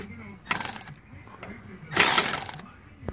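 A ratchet wrench tightens an AC compressor bolt on a 2005 Pontiac G6 with a 3.6 V6, giving two short, close bursts of rapid clicking with quiet handling noise between them.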